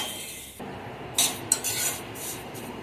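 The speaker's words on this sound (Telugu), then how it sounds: "ఇందులోనే సేమియా కూడా వేసేద్దాము. ఇవి కూడా లైట్ బ్రౌన్ కలర్ వచ్చే వరకు వేయించుకోవాలి." Vermicelli frying in a pan with ghee after dry fruits, scraped and stirred by a spatula in repeated rasping strokes over a soft steady sizzle, close by.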